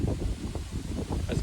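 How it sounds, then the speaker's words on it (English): Wind blows outdoors in a short steady buffet, a dense low rumble with gusty surges that batter the microphone, and no voices are heard. "It's windy outside."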